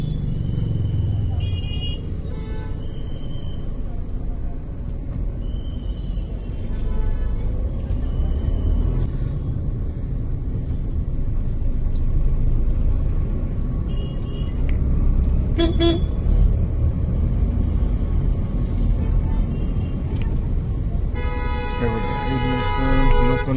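Busy road traffic with cars, big vehicles and two-wheelers, some riding the wrong way, makes a continuous rumble of engines passing close by, broken by several short car and motorbike horn toots, with a voice now and then underneath.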